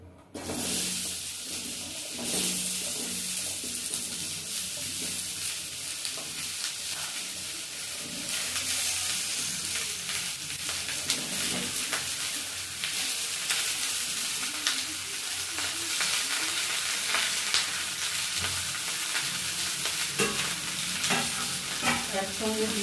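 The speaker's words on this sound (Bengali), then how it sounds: "এবার এই সবজিগুলো সব ভেজে নেবো গোল আলু দুটো লাল আলু দুটো দুটো কুমড়ো দুটো গাজর আর ছোট একটা ফুলকপি" Potatoes, sweet potatoes, pumpkin, carrot and cauliflower fry in a pan as a strong continuous sizzle, with stirring clatter throughout and no talking.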